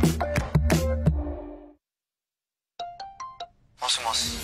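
An incoming LINE call ringtone playing from a Clova Friends smart speaker, heard as a bright, close electronic melody of short repeated tones that cuts out into silence and then comes back in a shorter burst.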